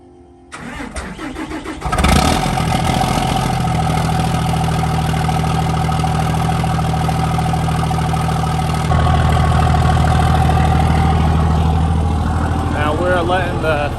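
A 3rd-gen truck engine cold-starts on a roughly 40-degree day, cranking briefly before catching with a loud roar. It settles into a heavy, very loud, rumbling idle that steps up slightly partway through.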